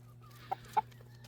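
Backyard chickens offered ham bone and bread treats, giving two short, soft clucks over a low steady hum, otherwise quiet.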